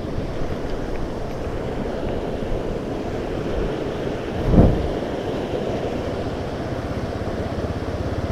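Steady broadband rush of the Cisangkuy River, a rafting river, flowing continuously at close range with a brief louder surge midway, no voices.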